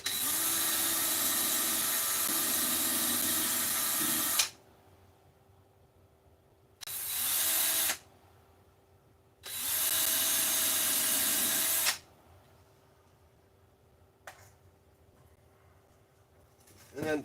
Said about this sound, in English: continue drilling these in here.